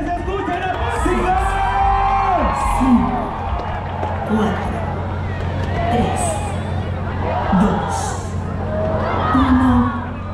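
A large crowd at the closing of Apatzingán's October festival shouts and cheers in rising waves, while an amplified announcer talks over the steady hubbub.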